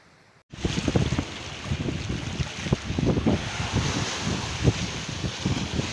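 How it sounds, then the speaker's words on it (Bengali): Wind and rolling waves on the bank of the Meghna River in monsoon season, a steady loud roar with repeated wave surges and wind buffeting the microphone, after a brief quiet start. "নদীর গর্জনটা দেখেন ভাই, উফ কি সুন্দর একটা ঢেউ আসছে। ও মাই গড, পানির শব্দটা শুনলেই শান্তি।"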